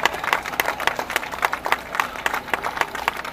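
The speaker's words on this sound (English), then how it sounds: "give yourselves a round of applause" Applause from a crowd at the opening ceremony of a housing development: a dense, steady patter of many hands clapping, moderately loud and sustained throughout, with no speech over it.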